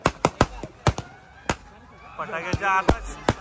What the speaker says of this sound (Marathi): फटाक्याच्या आतिषबाजी सुद्धा चालू आहे.